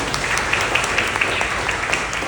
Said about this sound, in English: Big round of applause for Maury.